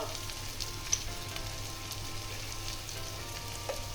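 Tomatoes and chilies sizzle steadily in hot oil, a constant crackling hiss with an occasional sharper pop, nearby and uninterrupted.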